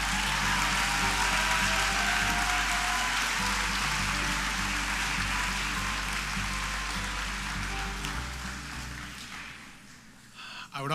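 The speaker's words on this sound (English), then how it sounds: "How about a big round of applause for the Heritage Program?" A graduation audience at a Holland College ceremony applauds the Heritage Program graduates in a sustained wash of clapping across a large hall, under a low steady hum that stops near the end.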